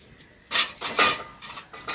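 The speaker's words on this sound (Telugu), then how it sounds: "డైరెక్ట్ గానే కొట్టేస్తామండి కోడిగుడ్లు" Eggs cracked straight into a cooking pot for egg curry: a few sharp clinks and taps against the vessel rim in quick succession, close by, after a quiet start, with no voices.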